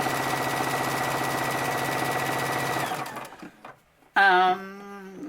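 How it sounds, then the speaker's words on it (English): A sewing machine stitching face masks in a chain, running steadily and loud up close for about three seconds before it stops, then a short voice is heard over the quiet. "So that's about a 1/4 inch with my sewing machine. And then just sew straight across."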